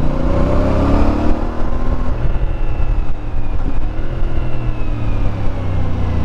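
CF Moto 450MT adventure motorcycle on semi road tires, riding with a loud steady engine drone and rising and falling revs under heavy wind rush.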